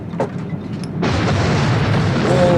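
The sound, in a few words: movie explosion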